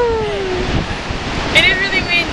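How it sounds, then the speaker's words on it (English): Strong wind buffeting the microphone at Niagara Falls in Canada, a loud steady roar with surf-like rushing throughout, plus a brief faint voice. "It is really windy."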